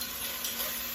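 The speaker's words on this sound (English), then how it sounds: "my meat is browning up nicely. Got a nice little sear on that." Beef sears in a pot with a steady, close sizzle that holds even for a brief moment, with no voices.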